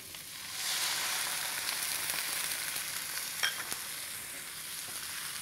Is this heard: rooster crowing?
no